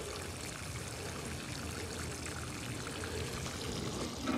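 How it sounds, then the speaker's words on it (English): Water pours steadily around the roots of a newly planted bare-root blackcurrant bush in a continuous broadband splash and trickle, close by, with no talking. "I'm going to water it in down around the roots really well."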